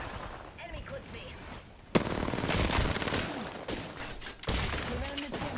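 Rapid bursts of automatic gunfire crackle during a tense video game shooter match, loud close volleys starting abruptly and recurring over steady background ambience.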